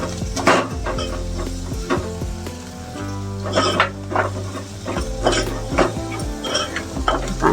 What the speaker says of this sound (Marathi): हळद ढवळून घेऊया.